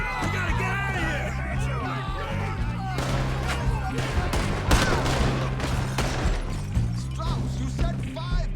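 Rapid gunfire crackles through a shootout in Red Dead Redemption 2, with dense overlapping shots over a game score, and voices shout during the fight.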